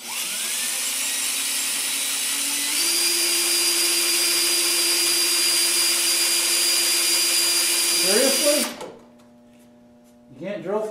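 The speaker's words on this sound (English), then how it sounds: "You can't drill through that crap?" A power drill whines continuously while working on go-kart fenders, rising in pitch partway through, then stops abruptly; a voice speaks briefly before the motor starts again.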